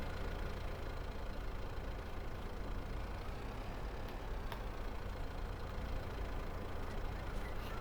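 A tractor engine idles in a farming video game, a quiet, steady low rumble that runs unchanged throughout with no voices over it.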